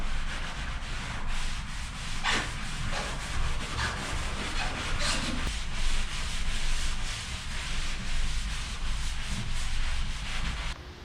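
Wooden toe rail on a sailboat being sanded, a continuous close abrasive rubbing with rhythmic strokes and small surges, steady and loud throughout with no voices.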